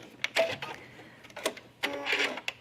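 A sewing machine backstitches a seam on a tunic in short bursts of rapid mechanical clatter, stopping and starting several times close by, with brief pauses between runs.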